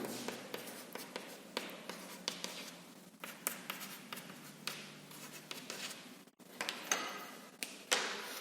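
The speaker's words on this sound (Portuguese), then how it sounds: "Vou escrever aqui, tá?" Quick, steady strokes and taps of writing on a board during a physics lecture, continuous and fairly close, with brief pauses between bursts and no talking over it.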